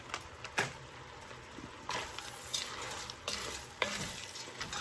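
Frozen black-eyed peas are stirred in a pot for Hoppin' John, a scraping, rustling mix with several sharp clinks of the spoon against the pot and a faint sizzle underneath, close by.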